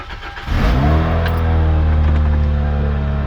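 A Toyota Celica engine cranks briefly and catches, then settles into a loud, steady idle close by with no talking.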